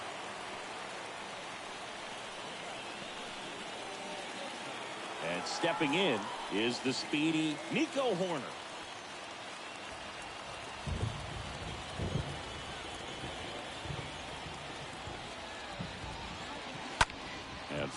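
Steady rain hiss in the MLB The Show 22 baseball game, Colombia vs Great Britain at the World Baseball Classic, runs as a constant wash under a commentator's voice and scattered crowd and bat sounds.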